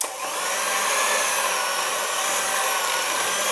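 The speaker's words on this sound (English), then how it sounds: "Mix all the ingredients with an electric whisk" Electric whisk mixing chocolate slice ingredients in a bowl, a steady buzzing whir with a soft scraping texture, running continuously close by with no talk.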